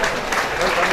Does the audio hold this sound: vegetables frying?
no